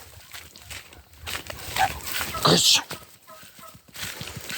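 Farm ducks making brief quacks and calls close by, amid outdoor ambience, with someone talking throughout.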